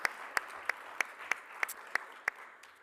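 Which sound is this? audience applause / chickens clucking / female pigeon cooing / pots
audience applause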